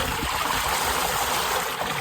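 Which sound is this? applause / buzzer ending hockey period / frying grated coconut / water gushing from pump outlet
water gushing from pump outlet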